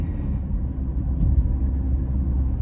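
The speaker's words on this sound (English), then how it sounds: "This car likes to pick up some speed." A 2023 Maserati Grecale Modena SUV picks up speed, heard from inside the cabin as a steady, loud low engine and road rumble with no talk.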